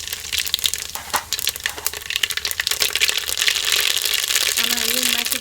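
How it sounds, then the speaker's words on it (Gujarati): Mustard seeds and cumin hitting hot oil in a pot for tempering, with dense crackling and popping up close that settles into a steady bright sizzle, while a voice talks underneath. "તેલ ગરમ થઈ ગયું છે. આ રાઈ જીરું નાખી દઈએ"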